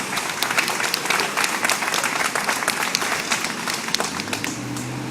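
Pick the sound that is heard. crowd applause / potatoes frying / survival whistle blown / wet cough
crowd applause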